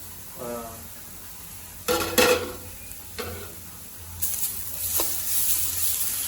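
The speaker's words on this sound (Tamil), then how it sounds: "இப்போ அந்த மிச்சருக்க நெய்யிலேயே பீட்ரூட்டை அதில் போட்டுருங்க. போட்டு வதக்கணும்." Beetroot stirred and sautéed in ghee in a pan, with a steady sizzle under bursts of scraping spoon strokes against the pan for a beetroot halwa.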